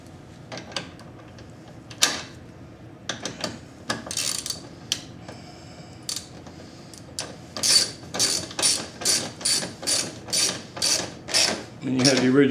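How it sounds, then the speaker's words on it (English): Screw ratcheting into the rear bumper of a 3rd-generation Nissan Murano, plastic bumper into original threads: a steady run of about a dozen evenly spaced ratchet clicks, close and clear, after scattered handling knocks. "Screw it in."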